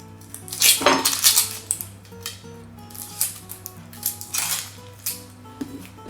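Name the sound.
knife chopping an onion on a flat cutting board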